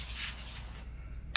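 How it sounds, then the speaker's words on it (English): Cooking spray hisses onto parchment paper lining a 9-inch cast iron pan, a steady close spray that cuts off abruptly, followed by a brief faint click. "let me give this parchment a little spray"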